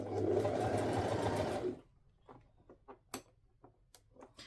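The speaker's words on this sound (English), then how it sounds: "just do little sections at a time. Don't try to sew the whole seam like really quickly." A sewing machine runs briefly and close while stitching princess seams on a coat, a fast buzzing burst that cuts off after under two seconds, leaving faint ticks and light clicks.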